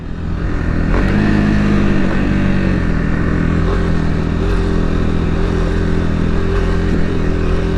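A Kawasaki KLX300SM supermoto motorcycle runs loud and close, its engine droning and revving steadily under ride noise with some clatter.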